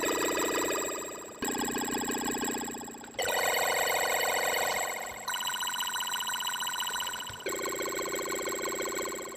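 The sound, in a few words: phone ringing sound effect made with AT2 arpeggio macro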